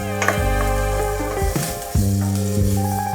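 Onions frying in a pan, with a steady sizzle under clinking and a few sharp kitchen knocks, no talking.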